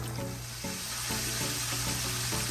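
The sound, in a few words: chicken frying in oil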